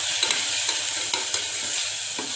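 Onion, ginger and garlic paste with ground green chillies frying in a pan for chole, a steady close sizzle with light scraping stirs throughout, no voices.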